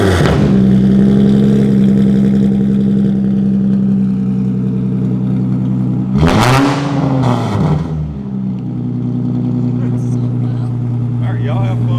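Nissan 350Z with blast pipes and no mufflers revving loudly and close, a harsh droning idle rising into a sharp rev around the middle, then settling back to a steady rumble.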